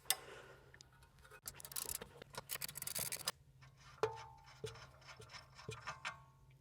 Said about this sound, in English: I'm using a ratcheting wrench on this side